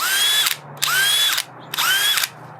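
A DeWalt Flexvolt DCD999 1/2-inch cordless hammer drill/driver whirs at its low, high-torque first speed in three short bursts, each spinning up and winding down, with brief pauses between them.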